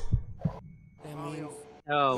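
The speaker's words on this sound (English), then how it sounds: "Heartbeat." In an SMG4 animated movie, two low, dull heartbeat thumps sound in quick succession, followed by people talking and reacting.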